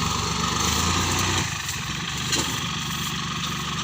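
A Kubota L3608 tractor engine runs close by in a steady mid-pitched diesel drone. Its note shifts and roughens partway through, then settles into a continuous running rumble with no talk over it.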